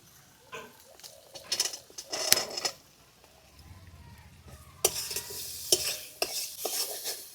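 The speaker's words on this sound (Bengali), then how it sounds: "মশলাটা ভালো করে কষিয়ে নিয়েছি" Spice masala with chopped tomatoes and green peas being stirred and fried in a pan for a cabbage and prawn curry, with bursts of scraping stirs and soft sizzling close by, pausing briefly in the middle.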